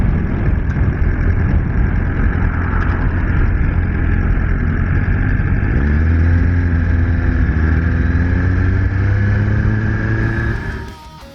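A Triumph Street Triple R motorcycle engine runs loud and close, a steady rumble that rises in pitch as it revs, then cuts off abruptly at the end.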